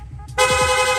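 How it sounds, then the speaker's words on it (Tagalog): A loud, bright electronic horn on a Honda Click scooter blares in rapid mode after a brief idle hum, holding a steady buzzing tone close by for most of a second. "Tapos rapid horn."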